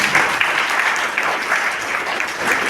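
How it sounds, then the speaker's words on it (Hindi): A room full of people at a health awareness talk claps loudly and steadily for a health transformation, a dense, even wash of applause throughout with no talk on top. "तो जोरदार तालियां इन मैम के लिए"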